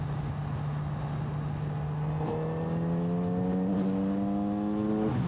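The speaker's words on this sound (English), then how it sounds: "We're going to do a fourth gear roll on." A 2026 Kawasaki Z900RS motorcycle doing a fourth gear roll-on, its engine note climbing steadily in pitch and loudness as it accelerates, heard from the rider's position over wind noise.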